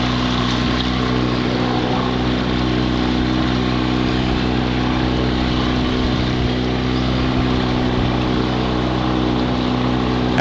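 A V-front motorboat engine drones loudly and continuously through a wooded bayou, a steady close-up hum with no break.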